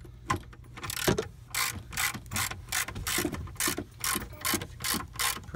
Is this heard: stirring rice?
no